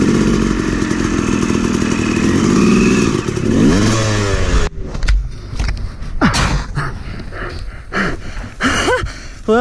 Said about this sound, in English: that's one way to flip your bike